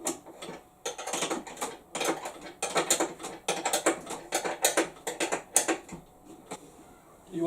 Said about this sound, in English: Go around the back and give it a spanner job.